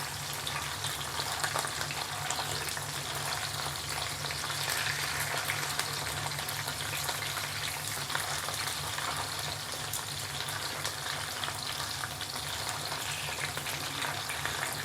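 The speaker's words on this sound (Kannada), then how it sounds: "ಫ್ರೈ ಆಗ್ತಿದೆ." Butter garlic chicken pieces shallow fry in a pan, a steady, even sizzle holding without pause at a moderate level close by.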